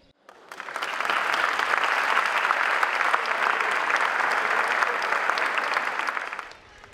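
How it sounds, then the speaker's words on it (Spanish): Sustained applause from a dance performance audience, swelling quickly and holding steady for several seconds before fading out. "a sentirnos queridos con vuestros aplausos"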